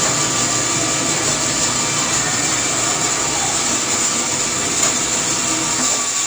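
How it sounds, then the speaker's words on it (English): A saw runs steadily while a deer carcass is being processed, the throat area being trimmed off for burger meat; a constant, unbroken whirring drone fills the whole stretch at close range, with no talking. "I'm going to shut the saw off."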